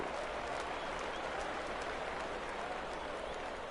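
Minor league baseball stadium crowd applauding and cheering steadily on a full count, a broad, even wash of clapping heard from within the stands.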